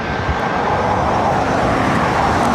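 Loud, steady jet engine roar from a Southwest Airlines Boeing 737 MAX 8 at LAX, close and continuous without any talking.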